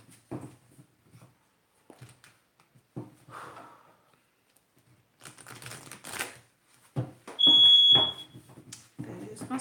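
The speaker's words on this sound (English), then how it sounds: "That is my smoke alarm." A household smoke alarm gives one loud, shrill electronic beep lasting about a second, set among quieter tapping and shuffling sounds in a room.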